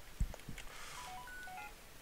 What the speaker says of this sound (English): Oh, the cross transceiver's ringing.